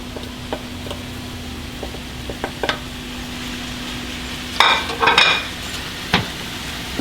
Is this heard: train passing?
no